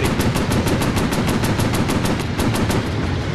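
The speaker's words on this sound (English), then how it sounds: "Machine guns ready." Rapid machine-gun fire from WWII warplanes in a VR flight combat game, a steady stream of evenly spaced shots running loud and unbroken the whole time over a dense roar.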